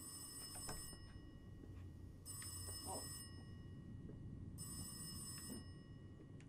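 A telephone bell rings in the horror video game Rise of Insanity, three separate bursts of electric ringing roughly two seconds apart, fairly faint over a low ambient hum.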